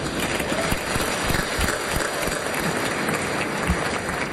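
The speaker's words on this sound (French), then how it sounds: "Au moins 150 États membres de l'ONU ont ainsi applaudi l'adoption du pacte" Delegates at a UN conference applaud the adoption of the migration pact, a dense, steady clapping from a large hall that carries through the whole stretch without talk.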